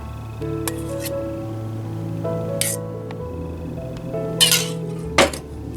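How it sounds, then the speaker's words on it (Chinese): A shrimp mixture with salt, pepper, starch and egg white being stirred in a bowl, heard as ringing metallic clinks and scrapes of a utensil against the dish, with a few louder knocks near the end. "搅拌一下"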